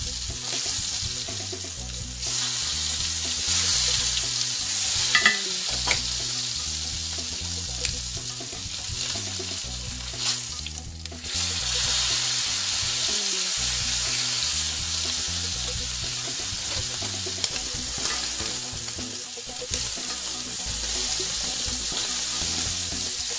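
A T-bone steak sizzles and fries in a pan with a steady, loud crackle lasting throughout, broken by brief bursts of spattering and a short pause midway, close up and without talk.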